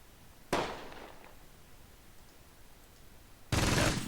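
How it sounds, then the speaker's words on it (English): An MG42 machine gun fires in the Close Combat game during a Gateway to Caen battle: two short, sharp bursts about three seconds apart, each with a trailing decay, and no talking. "taking some MG42 fire for sure. Burst fire from the MG42"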